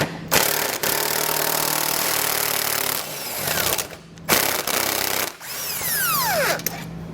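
Power tool spinning out a tight 13mm factory bolt held with thread locker, in loud bursts of whirring with short pauses between, the last burst winding down in a falling whine.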